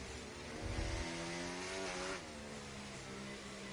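Video game F1 car on an outlap, engine droning loudly with a rising rev sweep and a brief low thump early on, the note then holding steady at a constant pitch.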